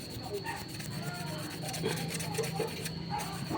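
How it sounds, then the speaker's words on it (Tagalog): Sandpaper rubbed by hand over a scratched spot on the casing of a newly bought electric fan being repaired, a steady close rasping scrape under continuous talking. "nilihain ko muna mga kabis ha. Ganun lang, pagliha."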